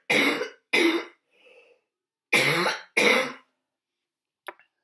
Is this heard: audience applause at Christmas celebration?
no